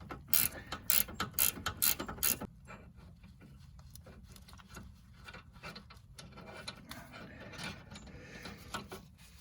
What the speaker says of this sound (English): have your 14 millimeter wrench, and you just spin it off